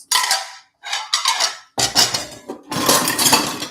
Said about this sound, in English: I take the dishes out.